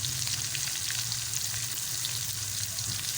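Tomatoes and turmeric sizzle steadily in a frying pan, a close, continuous hiss and crackle of hot oil with a faint low hum underneath and no talking.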